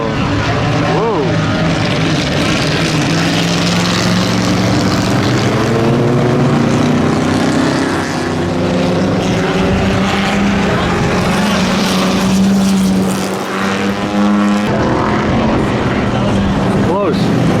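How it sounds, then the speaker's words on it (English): A Lancia race car at a Monterey motorsports event runs rough, its engine droning loud and close with wavering, uneven pitch sweeps throughout, while a commentator talks over it. "Lancia. Not running very well."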